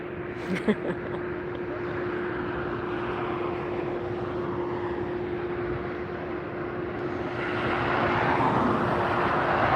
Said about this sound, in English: Dreamliner, you can tell from the curve of the wings.